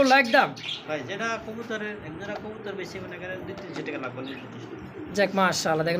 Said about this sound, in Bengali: ডানলেস আর ঝর্ণা শাটিনের একটা জোড়া কবুতর